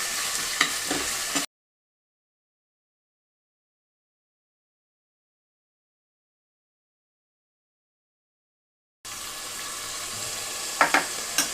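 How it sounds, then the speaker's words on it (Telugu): Onions and ginger garlic paste fry in a pan for a broad beans pulav, a steady hiss of sizzling with light stirring scrapes, heard in two short stretches separated by a long silent gap. "ఉల్లిపాయలతో పాటుగా అల్లం వెల్లుల్లి పేస్ట్ని కూడా పచ్చి వాసన పోయే వరకు వేయిస్తున్నాను"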